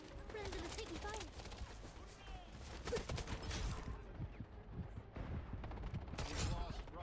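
Dense, rapid bursts of gunfire sound from the Wild Assault video game in a team firefight. Overlapping shots crackle almost continuously, with voices faintly mixed underneath.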